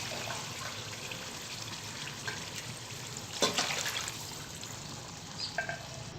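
Water goes into a pot of fried peas for a green vegetable pulao, three and a half glasses of it, making a soft, steady pour and gurgle with a few louder splashes partway through.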